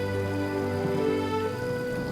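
Steady rain falls in an even, unbroken hiss, loud and close, with a low tonal drone running beneath it and no voices.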